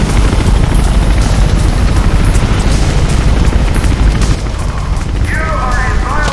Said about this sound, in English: Chopper spotted you. Make a run for it.